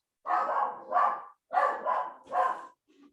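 A dog barks in a run of loud, close, hoarse woofs, five or so in quick succession with brief gaps, then a faint trailing sound.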